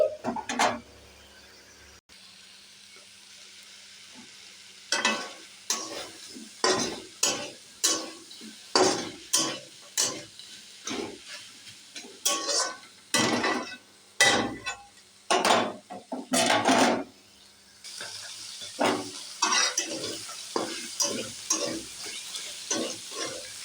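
Spices fry in hot oil in a pan, with a steady sizzle broken by a long run of sharp, rhythmic scraping strokes as they are stirred, loud and close, with no talk.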